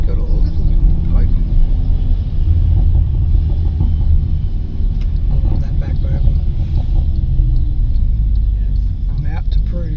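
An MG HS 2.0 fitted with upgraded coils drives along, its engine and road rumble a constant low drone heard from inside the cabin, with faint voices at times.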